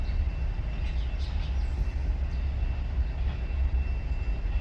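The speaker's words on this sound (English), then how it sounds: "this is an auto rack train" An auto rack freight train passes nearby, a steady low rumble of rolling cars with faint squeals above it, continuous for the whole stretch and no talking.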